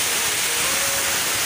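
A waterfall with water falling from rocks, giving a steady, close, full roaring rush with no pauses.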